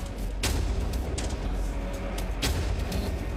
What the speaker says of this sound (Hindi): एक जोरदार धमाका